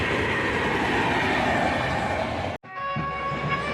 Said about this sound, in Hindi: ये बगल से ट्रेन गुजर रही है।